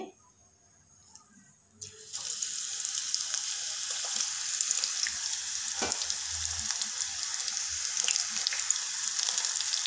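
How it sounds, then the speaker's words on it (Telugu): Onion pakoda dropped into hot oil, starting near-silent, then breaking into a continuous bright sizzle and bubbling frying, close and steady with occasional stirring clicks. "ఉల్లిపాయ పకోడీ నూనెలో వేసా, వేగుతుంది. చక్కగా వేగుతుందండి"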